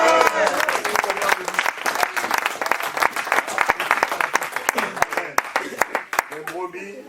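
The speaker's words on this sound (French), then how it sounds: "Applaudissez pour le Seigneur." A church congregation claps along during a Sunday worship service, with dense, steady, rhythmic applause that continues throughout and voices mixed in.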